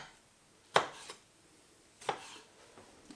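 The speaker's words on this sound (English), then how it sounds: "we're just going to kind of hack our knife through the tomatoes" A knife chops through tomatoes on a cutting board, giving two sharp, close strikes about a second apart, each followed by a fainter tap, with quiet gaps between.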